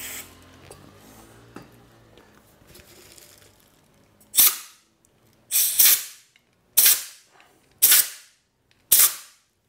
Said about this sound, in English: I'm going to use a small amount of parts cleaner and then blow it out with the air gun.